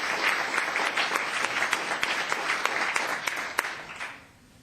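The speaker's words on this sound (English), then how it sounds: "Another round of applause, please." An audience at a town council meeting claps in a dense round of applause, loud and sustained, then tapering off near the end.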